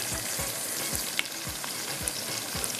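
Masala crackles and sizzles steadily in hot oil after red chili powder goes in, with regular soft thuds of stirring every half second or so and no voices.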